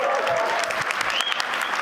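An audience at Davos bursts into dense, steady applause that fills the short moment evenly, with a faint voice tone briefly rising above the clapping.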